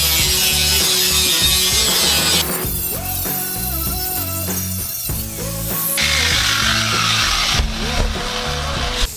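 A saw cuts through a metal body panel on a Porsche 914 under restoration, a loud, continuous harsh buzzing rasp with rhythmic stroke-like pulsing and shifting pitch, close up and with no speech.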